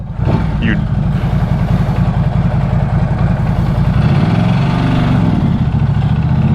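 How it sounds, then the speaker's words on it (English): A Norton Commando 961 SP motorcycle engine starts and settles into a loud, steady, close-up idle throughout. "you would never get bored of that start-up noise"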